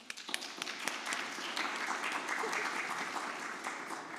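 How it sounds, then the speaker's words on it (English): Audience applause for a pianist at a university graduation ceremony, a steady even wash of many hands clapping in a hall, moderately distant and fairly quiet, holding at one level throughout. "can I get an applause for my pianist"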